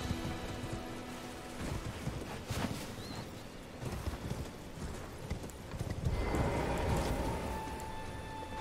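Rhythmic hoofbeats of a galloping horse in the video game Elden Ring over a steady ambient bed, growing louder and denser toward the end.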